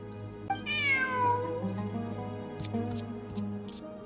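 A cat meows in a video game: one long, clear, falling meow near the start, followed by a few faint short clicks over a steady low background drone.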